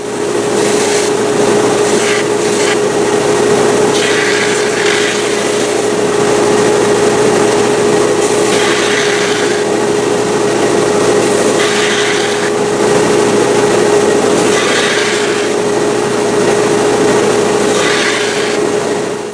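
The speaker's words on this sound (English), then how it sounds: "So now I'm going to use my edge sander to tidy up all this stuff." Edge sander running steadily on scrap wood for a guitar body, a constant motor hum with periodic bursts of abrasive scraping as the workpiece is pressed against the belt, close and loud throughout.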